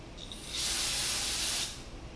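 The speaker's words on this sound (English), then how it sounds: "I'm using the brake cleaner here to kind of loosen up the gasket residue here." Brake cleaner is sprayed onto gasket residue on an engine during a Toyota 4AGE rebuild, a short hiss ramping up into one steady loud spray burst of about a second, then cutting off.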